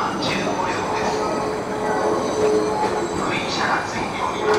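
A 15-car train rolls through a station with clattering wheels and intermittent metallic squeals, loud and close, while a faint public-address voice sounds in the background.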